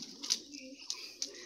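Soft pigeon cooing close by over a brief moment, with a few sharp faint clicks or rustles in between and light voices in the background.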